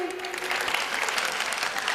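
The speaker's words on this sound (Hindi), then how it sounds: "गीत खत्म हुआ, तालियां बजाइए।" An audience claps together after a devotional Jain bhajan at Shikharji, a dense, steady burst of applause filling the whole short moment.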